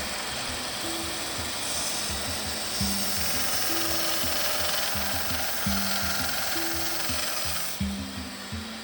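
Small band sander grinding the burrs off a cast aluminum part, a steady loud abrasive whir with irregular lower grinding and rubbing tones as the part is pressed and shifted against the belt.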